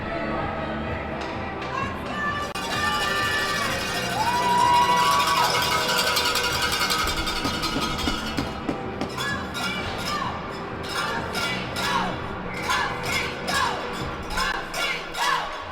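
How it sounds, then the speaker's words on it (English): At a youth U14 ice hockey tournament game in an arena, fans cheer and shout for the Ottawa Sting, a loud swelling crowd roar mixed with whoops and rink clatter, with a commentator talking over it. "Fans cheering on the Sting."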